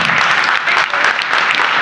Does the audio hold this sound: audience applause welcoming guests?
yes